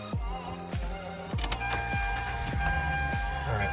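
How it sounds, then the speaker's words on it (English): A 2006 Hyundai Sonata starting up, with a series of repeated downward-sweeping electric whirs and tones over a steady hum. The sounds are close and fairly loud. "time to just start the car now and see if the light goes off"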